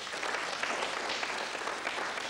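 Sustained clapping from contestants on a 1993 television bluff-club game show, a thick even wash of hands applauding with no break across the whole stretch.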